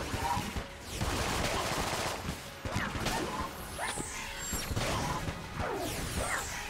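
Rapid gunfire and impact crashes from the video game Enter the Gungeon, dense bursts of shots and smashing effects sounding continuously and loudly throughout.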